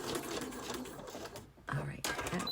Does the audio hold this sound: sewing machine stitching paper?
yes